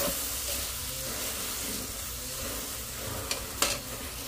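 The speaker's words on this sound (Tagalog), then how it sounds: "Ginisang, kamatis sa itlog." Tomatoes and egg sautéing in a pan give a steady soft sizzle, with stirring scrapes and a couple of brief clicks near the end and no talk.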